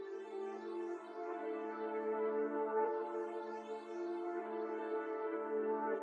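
A sustained, swelling synth-like tonal phrase from a multi-kit sample, played in reverse and pitched to the sample, with rising harmonic sweeps and a smooth, pitched sustain and no percussion.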